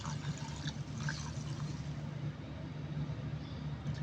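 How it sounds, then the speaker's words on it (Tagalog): Water is poured into a cooking pot of chicken tinola soup, giving a continuous splashing, trickling rush that runs steadily through the whole stretch at close range. "Lagyan natin ng tubig para masabaw."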